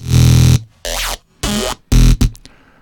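Serum synth presets in Ableton cutting in and out as automated chains mute and unmute, giving four loud bursts of dense buzzy tone separated by abrupt silences, ending in quick stuttering fragments; no voices.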